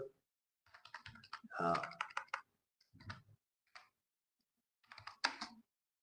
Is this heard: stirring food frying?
no